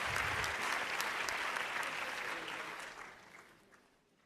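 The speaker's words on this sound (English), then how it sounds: "once more, a big round of applause, everyone, to the winners of the LUX Audience Award 2025" Audience applause for the winners of the LUX Audience Award 2025, a dense wash of clapping that is steady at first and then gradually thins and fades out over the last second or so.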